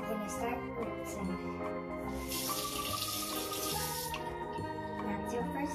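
A bathroom tap runs for rinsing before tooth brushing, a faint, steady trickle of water heard under background music and a voice.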